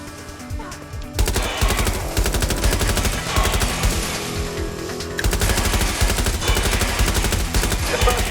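Sustained, loud automatic gunfire in the Watch Dogs: Legion video game, a dense continuous rattle of rapid shots after a brief quieter start, with faint game voice and effects underneath.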